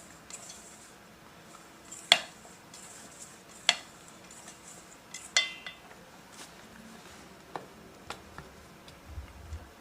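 A spoon gently stirring candied tomatoes with sugar in a dish: sparse, light clinks and taps at irregular intervals over quiet background, a few sharper knocks standing out, no speech.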